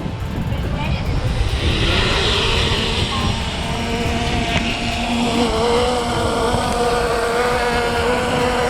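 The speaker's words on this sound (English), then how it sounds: "we're going to start the Hubsan Zino here automatically" A Hubsan Zino 2 drone hovering and fighting strong wind outdoors, its steady buzzing rotor whine mixed with heavy wind rumble, continuous and fairly loud throughout.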